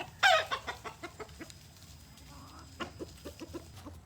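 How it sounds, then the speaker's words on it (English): Chickens cluck nearby, opening with a sharp squawk followed by a scattered series of short, soft clucks. "Oh, chickens, I'm here."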